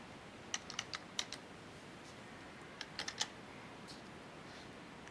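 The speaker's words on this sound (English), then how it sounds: "You will want to type in the child's last name" Computer keyboard typing a child's last name, a few short bursts of crisp key clicks separated by pauses, close and fairly quiet.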